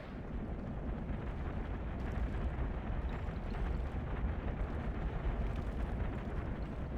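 Army units fire at will in a Lord of the Rings Remastered strategy battle, a dense, continuous rumble of volleys and impacts with repeated bursts over a heavy low roar.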